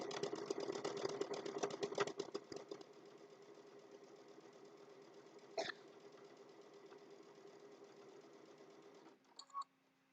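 A sewing machine stitches a fabric napkin near its mitered corner, a dense steady run of rapid needle strokes for a couple of seconds, then a quieter continuous hum with a brief click midway and a soft knock near the end.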